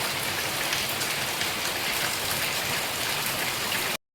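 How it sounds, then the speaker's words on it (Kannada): Heavy rain pours down in a dense, steady roar of drops striking surfaces, loud and unbroken until it cuts off abruptly at the end. "ನೋಡಿ ಗೈಸ್ ಯಾವ ರೀತಿ ಮಳೆ ಬರ್ತದೆ ನೋಡಿ."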